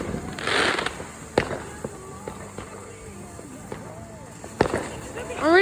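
Fourth of July fireworks going off outdoors, several sharp nearby bangs and crackles with whistling rockets toward the end, while people talk in the background.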